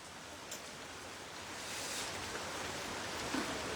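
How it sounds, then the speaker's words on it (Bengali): Rain falls in Savar, a soft even hiss of drizzle with a few faint patters, steady and unbroken with no voices. "এটা তো সাভারে বৃষ্টি হইতেছে"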